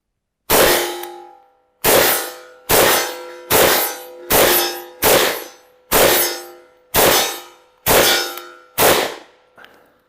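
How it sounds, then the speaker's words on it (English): A VZ 52 rifle fires about ten loud, sharp shots at a quick, slightly uneven pace, each a hard crack with a ringing metallic tail, recorded close with no talking. "then cock the bolt and fire."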